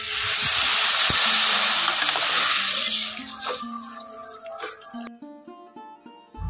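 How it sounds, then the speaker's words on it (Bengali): Water poured into a hot pan of drumstick curry hisses loudly at first, then settles into a gentler bubbling and sloshing that fades over several seconds, close by with no talk. "এখন এর মধ্যে দিয়ে দেব জল।"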